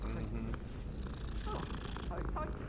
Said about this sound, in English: If I see the kitty, I pet it. Oh, there's 2 kitties!